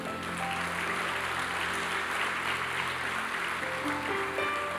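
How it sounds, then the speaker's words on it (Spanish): Steady applause fills a church service as the congregation claps in praise, a dense even wash of clapping held for several seconds with faint sustained musical tones underneath. "Denle un aplauso al Señor."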